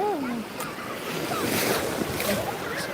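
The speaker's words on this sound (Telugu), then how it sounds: "పెద్ద పెద్ద అలలు" Big ocean waves roll in beside Murudeshwar temple, a constant surging roar of surf mixed with wind noise, with faint voices in the background.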